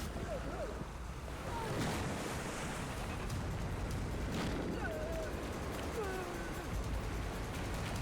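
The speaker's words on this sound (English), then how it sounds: "When the waves surge, he and the stilts have to withstand the hit." Ocean surf surges against a fisherman walking on stilts in the sea, a steady roar of breaking waves and wind under a dubbed narrating voice.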